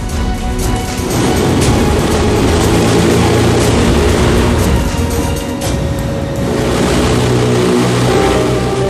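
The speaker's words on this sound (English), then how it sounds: "the crew starts up the four 1100 horsepower diesel-fueled propeller engines" Four 1100-horsepower diesel propeller engines of the Hindenburg airship run at full power, giving a loud, steady droning roar that stays constant from start to finish with no speech.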